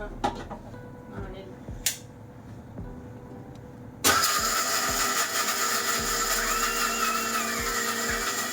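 A kitchen mixer grinder with a damaged part grinds chickpeas into a smooth paste for payasam. After a few seconds of quiet kitchen clatter it starts abruptly, then runs as a loud, steady, close whirring drone.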